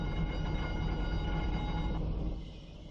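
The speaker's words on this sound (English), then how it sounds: "Let's put it to start B" An Airbus A310 engine spools up in the X-Plane 11 flight simulator, a steady low whine and rumble with tonal hum that drops off toward the end, heard alone.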